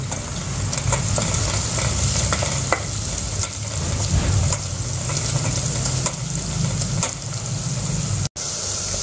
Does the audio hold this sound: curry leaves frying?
yes